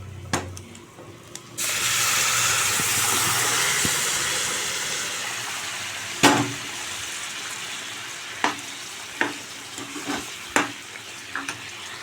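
A hot tempering of fried seasoning spices is poured into a bottle gourd milk curry, bursting into a loud, steady sizzle and hiss that gradually fades, followed by scattered sharp clinks of a spoon stirring in the pan.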